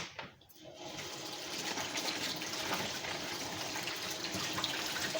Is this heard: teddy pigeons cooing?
no